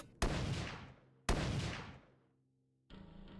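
Two heavy shotgun blasts from a VRChat game ring out about a second apart, each a sharp crack with a long decaying tail, followed by a quieter metallic reload or mechanical sound.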